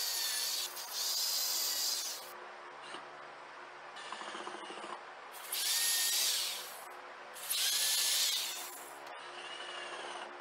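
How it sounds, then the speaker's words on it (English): A power driver runs in bursts, driving screws into the wooden frame of a homemade DIY cooker box; three or four loud, close whirring runs with quieter handling noise between them. "Now we can drop in the screws."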